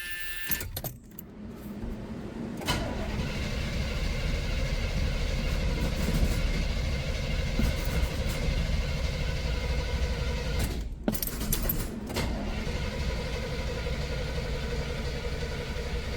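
An old car that has not been started in a long time cranks with a steady, sustained rumble, broken near the start and again around the eleventh second by brief gaps and clicks, with no voices.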